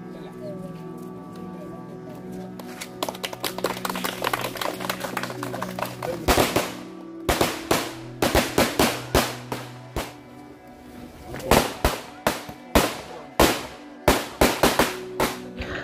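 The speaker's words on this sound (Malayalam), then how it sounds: "ആ ഗ്രാമം ആ ഉദ്ഘാടന കർമ്മത്തെ പടക്കം പൊട്ടിച്ചുകൊണ്ട് ആഘോഷിക്കുന്നത്" Firecrackers go off as a Kerala village celebrates a road inauguration, beginning as a softer crackle amid ambient noise, then erupting into loud, sharp, irregular bangs in quick clusters.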